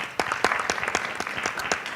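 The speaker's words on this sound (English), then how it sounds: "So let's give a big round of applause to Danae" Scattered hands clap in a modest round of applause at an alumni panel event, individual claps distinct and fairly close, sparse rather than thunderous.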